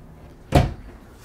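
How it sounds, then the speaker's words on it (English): A soft-close drawer in a Newmar Dutch Star motorhome bathroom glides shut with a single muffled thud at close range. Quiet room tone surrounds it. "All the drawers are the soft close."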